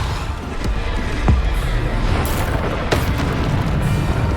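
The Depulsor spell being cast in the Hogwarts Legacy video game, dull booming impacts and bursts over game ambience, with a few sharp hits spread across the stretch.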